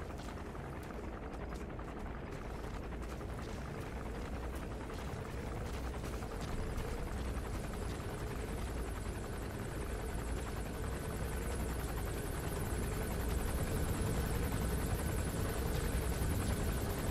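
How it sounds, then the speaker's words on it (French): A helicopter arriving in Metal Gear Solid 5, a loud, steady rotor roar that swells gradually over about seventeen seconds, filling the scene with no talk. "L'hélico il arrive, c'est pas une bonne nouvelle."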